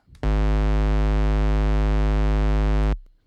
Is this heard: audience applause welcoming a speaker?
no